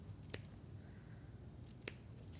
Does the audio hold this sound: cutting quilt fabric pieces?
yes